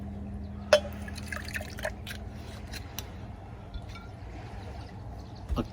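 Dry gin is poured into a cocktail shaker in a kitchen, a soft trickle with a few light drips and clinks, quiet and close, with no talking.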